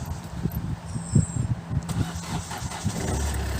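A car engine cranks and catches, then settles into a steady idle, close and fairly loud, with no talk over it.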